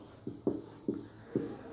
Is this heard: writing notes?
yes